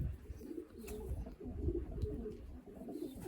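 A pigeon coos softly and repeatedly in a loft, low rolling calls close by with faint background rustle and no speech.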